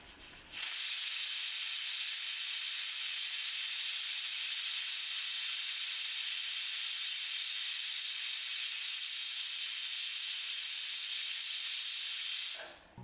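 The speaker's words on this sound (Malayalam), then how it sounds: "ഇപ്പം കുക്കറിൻ്റെ വിസിലൊക്കെ പോയി വന്നിട്ടുണ്ട്" Chickpeas cooking in a pressure cooker release a loud, steady hiss of steam that starts abruptly, holds constant for about twelve seconds, then cuts off; no distinct whistle tone stands out.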